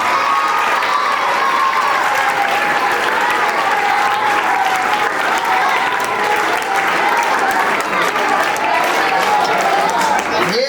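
A school audience claps loudly and continuously for a teacher's birthday, a dense, even wash of applause with faint voices mixed in, holding steady throughout.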